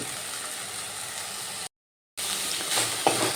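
Green chilies and mustard oil sizzle steadily in a pan with a drumstick-flower dish, a close, even frying hiss. It breaks off briefly for a moment of silence, then resumes with faint stirring scrapes.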